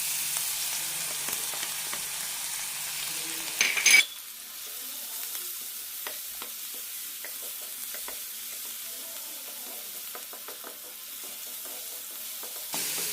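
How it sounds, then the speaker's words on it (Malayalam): Crushed garlic, ginger and green chilli frying in about two tablespoons of oil for a potato curry, a steady close sizzle with a louder burst as the aromatics hit the pan, then a softer continuous crackle with light stirring. "ഇതിലേക്ക് വെളുത്തുള്ളി ഇഞ്ചി ചതച്ചതിടാം."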